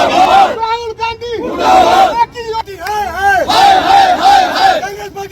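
BJP party workers chant political slogans in unison at a protest, a loud crowd of voices rising and falling in a repeated rhythmic call, close and dominant throughout.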